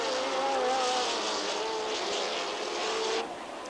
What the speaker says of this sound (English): Here's Michael Roe, the race leader